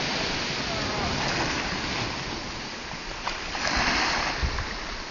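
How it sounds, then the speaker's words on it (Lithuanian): Waves washing against and carrying a small boat, a steady close rush of water with swells building louder, and faint voices in the background. "O jau neša. Mūsų valtį neša. Bangos didesnės ateina"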